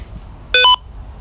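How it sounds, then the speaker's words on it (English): A single short electronic beep sequence, a quick pair of bright tones lasting a fraction of a second against a quiet background. "Is that you beeping?"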